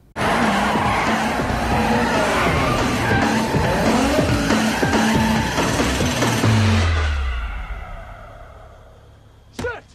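A car skids through a handbrake spin, tires squealing and screeching loudly over a revving engine for several seconds before the noise fades and ends with a short sharp sound.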